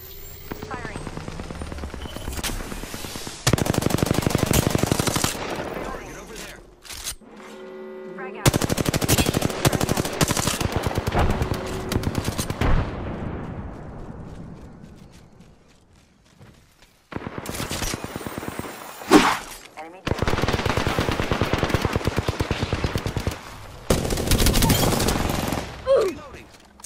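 Apex Legends gameplay is filled with repeated bursts of rapid automatic gunfire, loud and close, broken by pauses and helicopter-like whirring. A player speaks over parts of the action.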